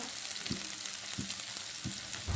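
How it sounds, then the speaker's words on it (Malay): Crushed garlic frying in hot oil, a constant close sizzle with three or four soft knocks of stirring at regular intervals, no talking. "Sekarang masukkan bawang putih ya"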